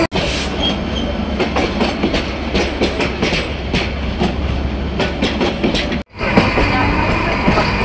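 The Banalata Express passenger train, running between Dhaka and Rajshahi/Chapainawabganj, rolls along loudly with a rhythmic clickety-clack of wheels over rail joints. The sound drops out abruptly for a moment, then resumes as heavy rumbling.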